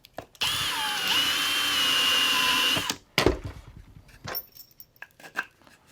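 A cordless power drill bores into the red-and-pink material inside a DIY Milwaukee M18 string trimmer build, one loud sustained whine of about two and a half seconds, followed by scattered clicks and handling knocks.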